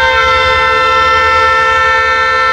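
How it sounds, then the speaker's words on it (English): A loud, sustained train horn blares close by, its steady multi-tone chord held throughout over a low rumbling of rail cars. "if you can hear that, the train's right across the street from it"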